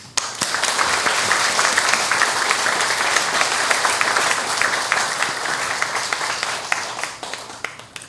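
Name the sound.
church congregation applauding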